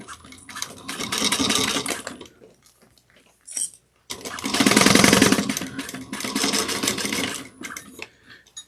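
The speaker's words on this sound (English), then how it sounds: "we're going to do some sewing it down again. Make sure you backstitch well." A sewing machine stitches a clear bag in close, rapid bursts of needle chatter, with two main runs separated by short pauses and small handling clicks.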